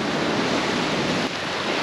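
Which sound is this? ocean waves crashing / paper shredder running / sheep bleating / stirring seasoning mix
ocean waves crashing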